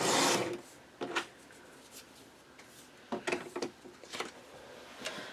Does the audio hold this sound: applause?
no